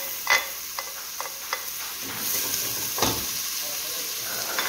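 Cilantro and green onion sauté in a pan with a soft, continuous sizzle and hiss, marked by several sharp stirring scrapes and clicks close by.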